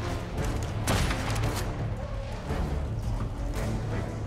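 Gunfire aimed at a mammoth in ARK: Survival Evolved, a dense volley of shots and booms rolling on steadily with a couple of sharper bursts near the start, loud and continuous over game noise.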